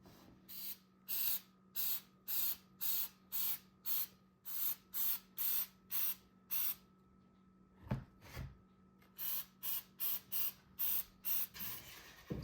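Repeated short bursts of aerosol Flex Seal spray hiss onto diesel heater fuel pump insulation, about fifteen evenly spaced, close and steady, with a low electrical hum beneath and a couple of handling knocks in a pause.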